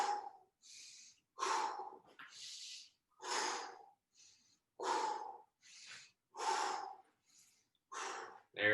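Heavy breathing during an adaptive fitness workout, about nine forceful breaths alternating between sharp inhales and huffing exhales in a steady rhythm, close and clear with no talk over it.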